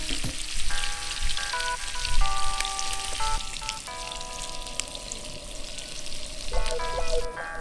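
Pork sizzles and crackles steadily in a hot pan, a close, continuous frying hiss with occasional pops, while faint musical tones play in the background.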